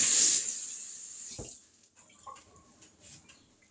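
Water runs from a kitchen tap over food being washed: a brief rushing splash at the start that fades quickly, followed by faint drips and small handling sounds.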